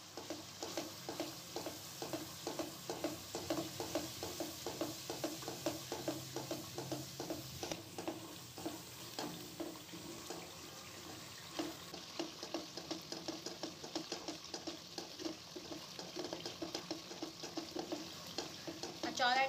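Masala for achari aloo chana fries in a pan under steady, rhythmic stirring, with evenly spaced spatula scrapes repeating over a faint, continuous sizzle for nearly twenty seconds.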